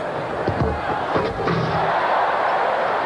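Crowd at the 1988 NBA Slam Dunk Contest roars in a sustained, broad wash of cheering, with a couple of sharp thuds and shouts near the start.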